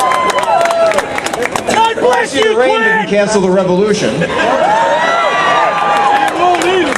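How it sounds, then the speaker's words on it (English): Outdoor Tax Day Tea Party rally crowd in Pittsburgh cheering and clapping loudly around a speaker addressing them, with dense shouting and babble throughout. "what a crowd."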